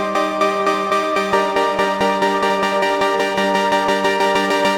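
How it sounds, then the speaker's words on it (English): Synthesized arpeggiated chord triggers pulse in a regular stream that accelerates steadily while a cutoff filter opens, making the repeated tones grow brighter and fuller. "we will automate this going faster and faster and faster while opening the cutoff more and more"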